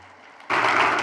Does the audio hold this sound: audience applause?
yes